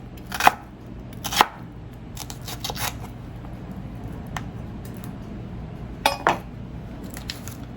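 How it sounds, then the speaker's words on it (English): A knife slices onions into half moons on a cutting board, giving crisp, separate chops in small clusters with quieter gaps between, close up and without speech. "slice it into nice half moons. I'm going to do that with 2 onions."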